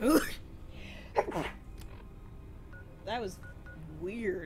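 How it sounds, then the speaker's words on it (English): A person sneezes once in a sharp, abrupt burst at the start, and a short remark from a speaker follows soon after. "That was a weird sneeze."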